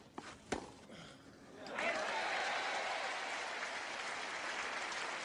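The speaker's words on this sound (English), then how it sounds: "this crowd, much as they were for Chris Evert Lloyd yesterday, they're cheering Lendl just to get him into the match" At the 1984 French Open men's final in Paris, a couple of sharp tennis ball strikes are followed by a swelling wave of applause and cheering from the stadium crowd, steady and moderately distant under a commentator's voice.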